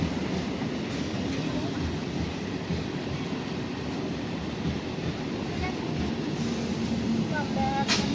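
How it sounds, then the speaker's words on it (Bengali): At Sonarpur railway station, a train pulls in with a continuous heavy rumble and rolling noise that fills the whole stretch, steady and fairly close. "এখন ট্রেন আসছে"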